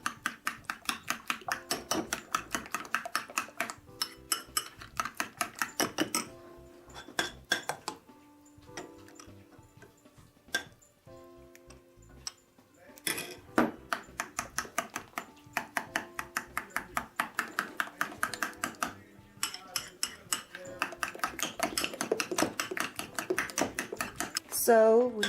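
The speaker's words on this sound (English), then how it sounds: "So now I'm just going to take some of the cheese mixture and mix that in." A utensil stirs a cheese mixture into beaten eggs in a bowl, giving fast rhythmic clicking and tapping that runs in bursts with short pauses, close and moderately loud over faint background sound.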